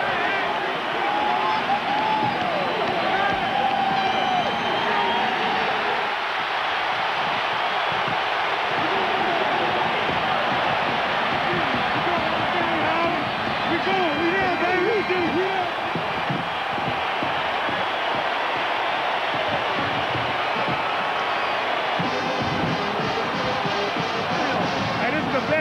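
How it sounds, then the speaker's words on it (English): A record stadium crowd at an Ohio State versus Michigan football game keeps up a loud, continuous roar of cheering and whoops, with a commentator speaking over it at times. "Listen to this crowd."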